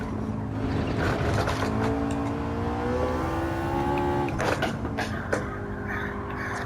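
A McLaren 650S engine pulls hard in Gran Turismo 7, a steady loud drone whose pitch climbs over several seconds, drops briefly at a shift near the middle, then rises again.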